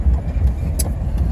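A vehicle rolls slowly on a flat heavy-load-range trailer tire, giving a low rhythmic thumping flop repeating under steady road noise, close up.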